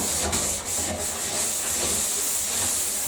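Steady, rough scrubbing on a rust-stained bathtub surface, a continuous hissing rub with slight rhythmic strokes, close and fairly loud with no talking.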